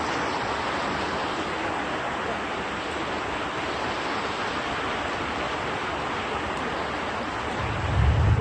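Floodwater rushes through the streets of Venice at night as a continuous loud roaring wash, with a low rumble swelling near the end.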